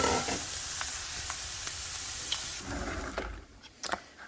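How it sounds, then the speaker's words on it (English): Diced vegetables and corn sautéing in a pan, a steady close sizzle with scattered stirring scrapes, the frying fading toward the end as a few sharper utensil knocks ring out. "I'm going to saute this for like 10 minutes."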